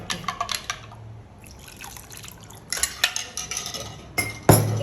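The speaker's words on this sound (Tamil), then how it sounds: "இனி நான் இதில் கொக்கனட் மில்க்கை சேர்த்து" Coconut milk being added to breadfruit porridge, with liquid drips and pouring, soft spoon and pot clinks in short bursts, and a final louder clatter near the end.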